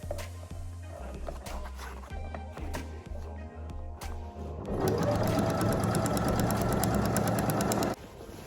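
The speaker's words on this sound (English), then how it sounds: "So I'm going to go ahead and stitch the whole of this down." A sewing machine stitches down the pinned seam of a gathered skirt with a pocket. It starts in slow, separate clicking stitches, then runs into a fast, continuous, loud whirr for several seconds before stopping.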